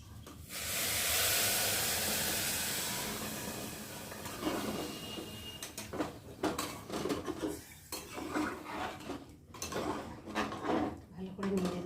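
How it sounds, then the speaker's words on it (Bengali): Water poured into a pot of khichuri: a loud rushing pour in the opening seconds, then metallic clatter and scraping of the utensil against the pot, close up. "চলো আমি এখন জল দিয়ে দেবো"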